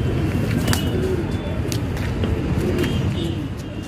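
A Saharanpuri cross Bajre pigeon, released on the ground, gives faint coos and bird sounds over a constant loud background hiss and rumble, with no clear talk.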